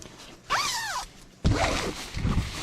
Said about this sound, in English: you have to have tension on this part to be able to play with the zippers like that